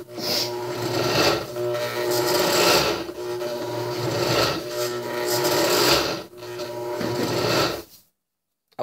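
An Oster Dual-Action blender grinds peanuts into peanut butter with a close, harsh, rasping whir that swells and dips in waves for about eight seconds before cutting off.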